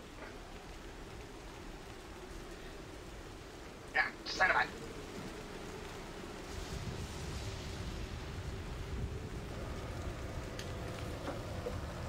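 Soft, steady rain ambience plays as background during a tabletop roleplaying game session, a constant faint hiss of falling rain beneath people talking, with a brief louder burst partway through.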